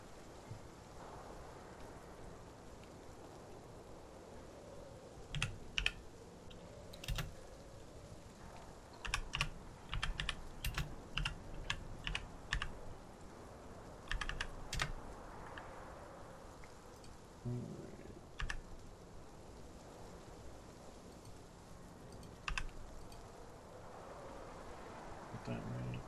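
Computer keyboard typing in bursts, quick clusters of sharp clicks and key taps spaced across a quiet background, close to the microphone, with faint low background noise between the flurries.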